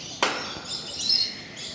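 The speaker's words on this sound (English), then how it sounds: "feeding two birds." Birds being hand-fed at a Singapore bird park give sharp, high chirps, one sudden close call followed by softer tweets over a quiet background.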